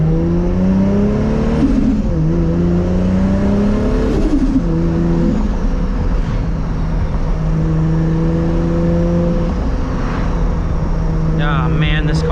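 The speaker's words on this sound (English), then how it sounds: "This turbo spools up so fast." Inside a Toyota Supra, the turbocharged engine pulls hard through the gears, a steady droning roar rising in pitch, dipping at each shift and climbing again, with wind and road noise underneath.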